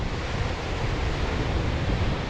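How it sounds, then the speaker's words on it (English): Storm waves crashing and spraying up on coastal rocks in Scotland during a gale, a dense, loud roar of surf and rushing water mixed with buffeting wind, continuous and close. "whoa, it just sprayed up right in front of us"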